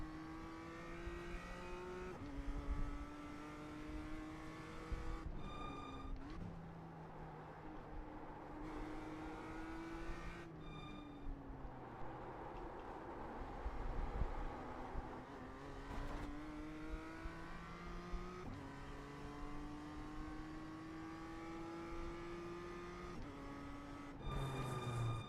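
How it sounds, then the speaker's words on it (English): Race cars at the Nürburgring 24 Hours, heard from inside a car as engines rev and shift through gears in repeated rising pulls, with faster cars closing in and passing. "Faster traffic approaching."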